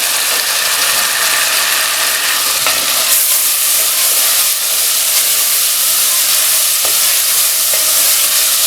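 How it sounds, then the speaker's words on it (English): Chicken masala of tomatoes, spices and dry methi leaves sizzles steadily in a pan with occasional scraping stirs and clicks of the utensil, close and continuous, with no talking. "After a few minutes of frying"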